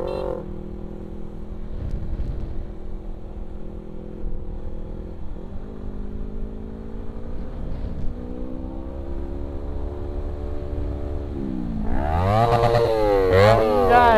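A motorcycle engine on an Indonesian road ride hums steadily with a slowly rising pitch, then revs hard near the end with quick up-and-down swells that get louder.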